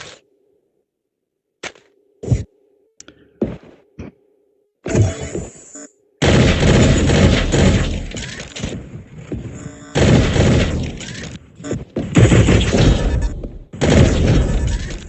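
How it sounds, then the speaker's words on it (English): Video game gunfire crackles in short, sharp bursts as a player shoots at a sniper up on a tower. Single shots come first, then sustained loud volleys with brief pauses between them. "No, I gotta shoot the sniper up on the tower."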